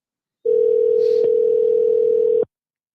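A steady, loud telephone dial tone sounds alone for about two seconds as an outbound call is placed, starting and stopping abruptly.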